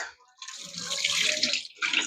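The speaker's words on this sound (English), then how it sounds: "so now I have it in some water. I'm gonna like break it apart." Boiled saltfish being broken apart by hand in a bowl of water for a Jamaican dish, close splashing and sloshing in two bursts with a short pause between.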